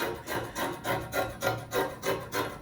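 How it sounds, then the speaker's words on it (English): Scissors trim through fabric folded into four, a rhythmic series of about seven rasping cuts close by, evenly spaced and with no voices. "I folded the fabric into 4, and then I'm going to trim now"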